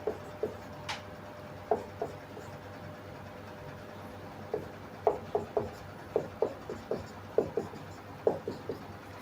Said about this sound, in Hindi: थोड़ा इधर लिखता हूँ